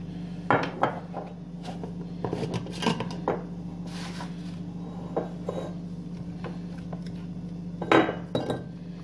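Small onions packed into glass jars for pickling, repeated close clinks and knocks of onions and hands against glass at an uneven pace, with a louder burst near the end over a steady low hum.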